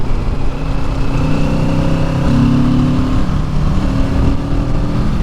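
A 2023 Kawasaki Ninja 650 motorcycle engine hums loudly and steadily while riding, with continuous wind rush and slight pitch rises as the revs climb.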